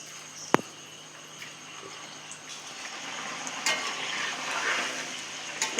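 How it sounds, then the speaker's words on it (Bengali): Langcha sweets being slipped one by one into hot oil to fry over a medium flame, giving a low, steady sizzle and bubbling that builds slightly, with a sharp tap near the start. "এবার যে ল্যাংচাগুলো তৈরি করেছিলাম সেটাও তেলের মধ্যে দিয়ে দেবো এক এক করে"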